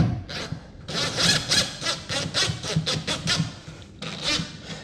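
A plastic wall plug is screwed by hand into drywall, producing a series of close, rhythmic grinding scrapes in quick bursts with short pauses between turns.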